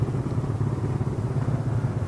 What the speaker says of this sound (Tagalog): Burn out, burn out.